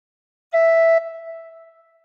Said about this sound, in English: And put fingers 1 to 5 on holes 1 to 5 and blow once.